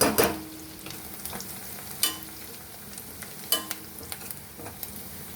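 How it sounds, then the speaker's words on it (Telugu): Onions fry in oil with fenugreek powder and garlic, a soft background sizzle punctuated by several sharp spatula clacks and stirring scrapes at irregular intervals, no talk. "ఈ ఉల్లిపాయలు వేగిపోవాలి బాగా"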